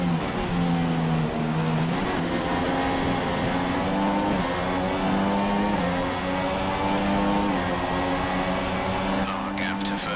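In the F1 2016 racing game, a Formula 1 car (Red Bull, Canadian Grand Prix) screams steadily at high revs, its engine pitch climbing and dropping with gear changes, loud and continuous throughout.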